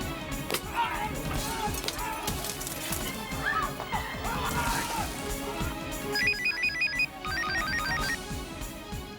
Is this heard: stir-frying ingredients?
no